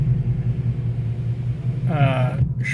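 A 2015 Ford Mustang GT with a Flowmaster Outlaw exhaust gives a steady low rumble while cruising, heard from inside the car, with a brief rising note near the end.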